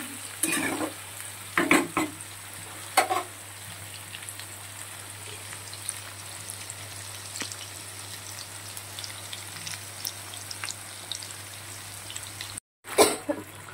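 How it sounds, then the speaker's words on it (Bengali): Potatoes and onions frying in a pan, a continuous moderate sizzle with a few sharp stirring scrapes and clacks near the start, briefly cut by a gap before a final clatter. "দেখো আলু আর পেঁয়াজটা একটু ভাজা ভাজা হয়ে গেছে।"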